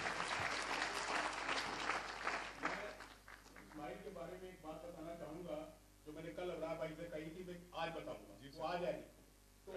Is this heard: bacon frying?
no